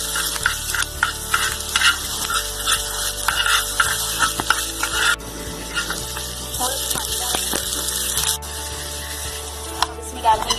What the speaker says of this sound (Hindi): थोड़ी देर के लिए प्याज को हम फ्राई कर लेंगे। इसी तरह हमें फ्राई करने हैं, ज्यादा ब्राउन नहीं करना।